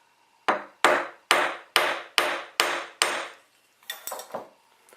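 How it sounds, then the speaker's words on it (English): Seven sharp hammer blows flatten the end of a metal wire in an even rhythm, each with a short metallic decay, followed by a few lighter, quicker taps, close by. "I want to hammer this flat right on the end"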